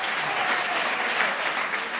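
Steady, dense applause from an assembled crowd welcoming teachers, new staff especially, at a French high school's pre-term staff day, loud and continuous throughout with no talk.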